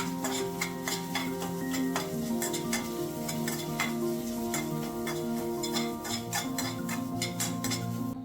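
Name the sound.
masala with dried red chilies and curry leaves sautéing in oil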